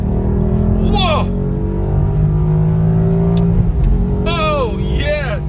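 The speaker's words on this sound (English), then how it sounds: "let's go ahead and drop it a gear, drop it another gear, and let's see what it sounds like" A Ferrari V8 engine revs hard after being dropped down a couple of gears, its loud roar steady and close throughout, with sharp rising whoops of throttle near the start and again near the end.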